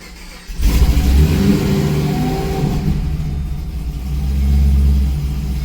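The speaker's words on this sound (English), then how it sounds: "Gotta love that speed density startup." A Chevrolet Caprice PPV with a supercharged LSA V8 and speed density tune cranks and catches, then revs loudly up and settles into a rough, lumpy idle before another rising rev, close and alone.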